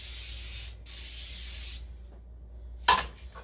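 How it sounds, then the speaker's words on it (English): Cooking spray hisses onto a red copper non-stick pan in two steady bursts, close and alone, followed by a brief clatter. "I'm going to take this off camera and spray it."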